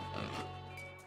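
Villagers turned into pigs oink in the Paper Mario RPG video game, a short burst of tonal grunting over a steady droning game background.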